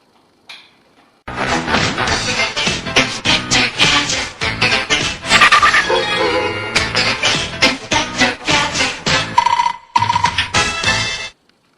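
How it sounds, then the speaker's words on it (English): A loud blender makes a raw vegan smoothie, whirring in choppy bursts under a makeshift cover instead of its lid, its motor surging and dropping as the thick contents churn, then stops abruptly. "let's blend this baby up"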